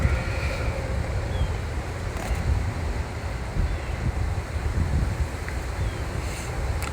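Strong wind buffets the microphone outdoors beside a 2015 Ford Explorer during a passenger-side motor mount repair, a steady low roaring rush with gusty swells that continues throughout and has no talk over it.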